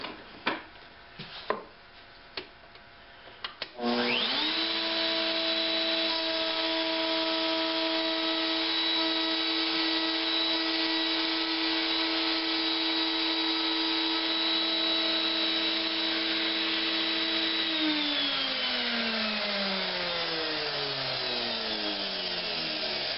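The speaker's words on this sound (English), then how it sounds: "I'm going to let this router down to where we're about halfway through the piece of wood" Wood router cutting partway through a piece of wood: a few knocks, then the motor spins up to a loud steady high whine that holds before winding down as it coasts toward a stop.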